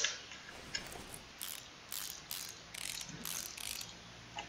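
Rapid ratchet clicking in bursts while screwing bolts onto an intake manifold in Car Mechanic Simulator 2018, several short crisp runs of pawl ticks, close and clear over a quiet background.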